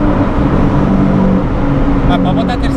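Nissan 370Z engine roars steadily and loud while drifting, with strained acceleration throughout and tire or engine squeals rising near the end; people talk over it.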